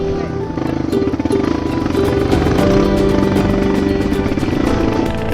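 An off-road motorbike labors up a dry, rocky riverbed in the Cambodian jungle, its engine droning loud and close throughout with steady revving and sputtering, while voices are faintly present beneath.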